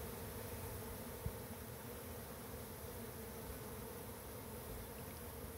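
A swarm of honeybees buzzes steadily all around, a continuous close drone with no talk, one brief soft bump partway through.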